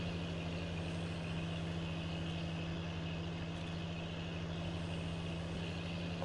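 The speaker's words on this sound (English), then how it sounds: "I do like the engine noise of the big boy though." Big farm tractor engine in a farming video game, a steady droning rumble with a constant low hum, running without pause and without talk.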